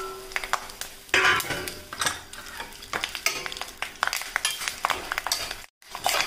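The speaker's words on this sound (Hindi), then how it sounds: "अब इसमें मैं भट भूनने के लिए डाल देती हूँ।" Soybeans (bhatt) tossed into hot oil in an iron wok for roasting, with a steady crackle, clatter and stirring scrapes, loud and close, pausing briefly near the end.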